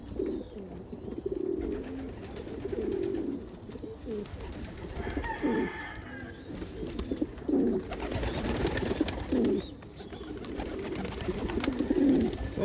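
Pigeons and doves feeding on scattered corn in the morning, with repeated soft, low cooing calls from several birds near and far, overlapping in a steady chorus through the whole stretch, with faint rustling and no talk.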